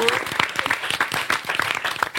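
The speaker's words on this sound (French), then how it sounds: "on l'applaudit aussi" Crowd applause at a French live entertainment show, dense continuous clapping from many people, fairly loud throughout the short burst.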